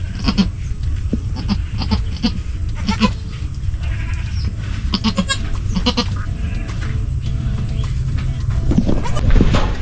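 Goats on a farm bleat repeatedly, several calls spread through the clip, with rustling and livestock movement in the background.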